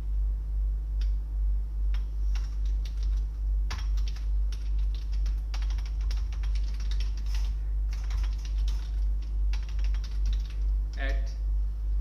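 Keys clatter at a steady, quick pace as someone types C code on a computer keyboard, the light clicks sitting over a constant low electrical hum.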